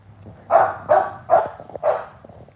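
Four evenly spaced barks from a dog ring out one after another, clear and reasonably near, each short and punchy against a quiet background without speech.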